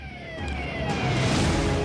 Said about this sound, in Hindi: सायरन की आवाज गूंज रही है।